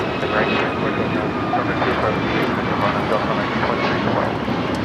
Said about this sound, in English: This is Alaska Airlines 1418 taking off to Guadalajara on the MAX 9